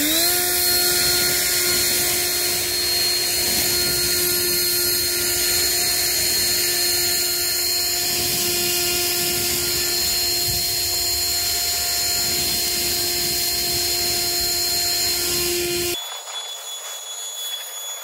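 A Greenworks Pro 80V backpack leaf blower running at a steady high pitch, a loud, constant electric whine with an airy roar that holds for most of the clip before cutting off sharply near the end.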